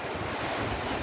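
Big ocean waves crash and wash against a rocky shore where people were fishing, a loud, dense roar mixed with heavy wind buffeting the microphone.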